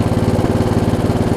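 A riding lawn mower engine idling down, loud and close, with a steady rapid low chugging pulse and no talking.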